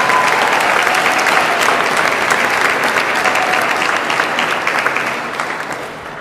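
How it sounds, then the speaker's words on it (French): Applause from a large audience at a university graduation ceremony, a dense, steady wash of many hands clapping that fades slightly toward the end. "On peut les applaudir aussi."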